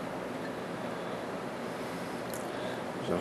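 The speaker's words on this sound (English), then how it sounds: "All right, pouring into the glass." Hop Sun wheat beer being poured from the bottle into a glass, a steady broadband rushing and fizzing wash that runs unbroken and close for the whole few seconds, with no voices.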